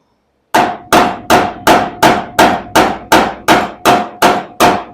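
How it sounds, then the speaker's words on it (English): A slightly round-faced body hammer taps out a low spot in the sheet-metal panel of a 1970 Dodge Challenger, striking about eleven sharp, evenly paced ringing blows, close and loud with no talk. "I'm using a hammer that's got a little bit of a round surface on it"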